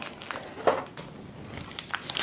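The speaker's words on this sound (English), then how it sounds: "I'm going to peel off the paper." Close, crisp crinkling of baking paper being peeled away from a baked mango bread, with uneven rustles and crackles coming in short bursts.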